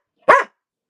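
A single sharp, close bark from an indoor dog breaks otherwise quiet surroundings, loud and brief with no voices.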